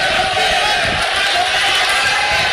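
A loud, dense crowd at a women's combat sports bout roars continuously in support of a fighter, forming a steady wash of cheering and shouting with voices mixed into it.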